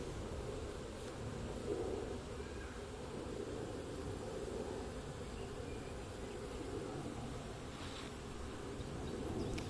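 A reformed cluster of swarming honeybees hangs at mid-height during a swarm capture with a pole, giving off a continuous, even, close buzzing hum that holds steady the whole time with no voices over it.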